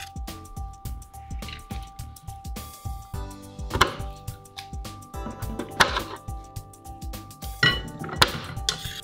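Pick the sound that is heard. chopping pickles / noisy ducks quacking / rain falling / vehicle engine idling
chopping pickles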